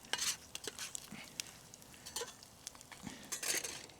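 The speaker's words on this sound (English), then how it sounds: "nothing like watching eggs fry over a fire, right?" Eggs frying in a pan over a wood fire on a PicoGrill 680 camp stove, soft crackling sizzle with small pops and light scraping clatter at close range, no voices.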